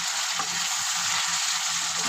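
Spice paste frying in oil for a tengra fish curry, a loud, continuous bright sizzle with faint stirring scrapes underneath and no speech.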